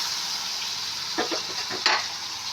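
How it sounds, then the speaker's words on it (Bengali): Onions frying in a pan with fish masala, a steady sizzle and hiss under a few short scraping stirs, close and moderately loud, with no talking. "এই পেঁয়াজটা ভাজা হয়ে যাবে।"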